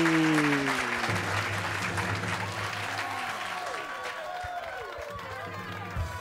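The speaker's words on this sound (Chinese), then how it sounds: "呦，掌声鼓励。" An audience claps in a dense round of applause at a Hakka variety show, loud at first and slowly thinning, with a sustained tone at the start and faint voices underneath.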